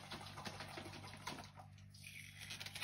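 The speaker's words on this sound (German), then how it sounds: "jetzt fülle ich da einfach ein bisschen Wasser noch rein" A little water is poured into a Thermomix mixing bowl to loosen leftover farmhouse bread dough, giving a steady, moderately loud splashing rush that continues throughout, with no talking.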